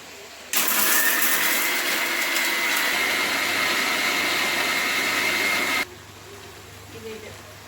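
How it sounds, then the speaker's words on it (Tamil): A kitchen mixer grinder grinds a chicken gravy masala paste with a loud, steady roar that starts abruptly, holds for about five seconds and then cuts off, leaving a quiet room. "இப்போ நான் அரைச்சிட்டு வந்துடுறேன்."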